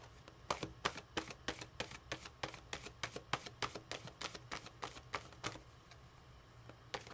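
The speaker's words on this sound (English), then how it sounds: "I've just finished shuffling." Tarot cards being shuffled by hand, a steady series of sharp crisp riffling snaps, about twenty in quick succession, close and fairly quiet with no talking.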